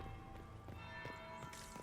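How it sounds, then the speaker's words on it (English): A bell tolls in the Dragon Age Inquisition video game, heard faintly through a steady bed of game ambience and music, with soft resonant strikes under a constant hum. "That's the bell."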